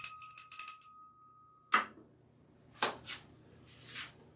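A bell is rung in a live-streamed online classroom: a rapid cluster of bright metallic rings in the first second, loud and close, then a few scattered soft knocks and thumps.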